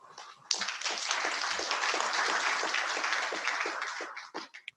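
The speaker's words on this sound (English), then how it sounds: "Can we have a large applause for my panel?" An audience at a conference panel discussion breaks into sustained applause, a dense wash of many hands clapping that starts abruptly, holds steady for several seconds, then thins into scattered final claps.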